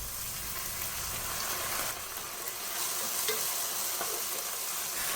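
Egg fried rice is stir-fried in a hot pan with soy sauce, giving a steady, dense hiss of sizzling with faint scraping of the spatula, close and continuous without any voices.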